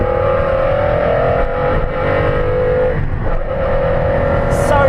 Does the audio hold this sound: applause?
no